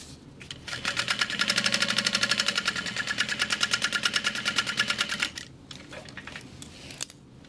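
Sewing machine top stitching a crossbody bag, a fast steady mechanical clatter running for about five seconds at close range, then stopping, followed by a few faint handling clicks.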